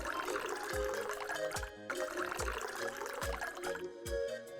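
Drink poured into a glass, with a steady liquid trickle and splash running through, broken by brief pauses and overlaid with a rhythmic backing beat.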